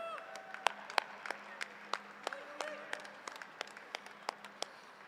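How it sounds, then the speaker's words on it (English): An indoor crowd at the Iowa Beef Expo cattle show gives scattered, sparse applause, with individual sharp claps standing out over a quiet room murmur. "Give them a round of applause if you would."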